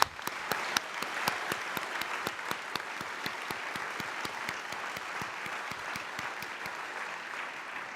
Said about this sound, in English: And so, Ryan, I just want to give you a big round of applause for all that you've done.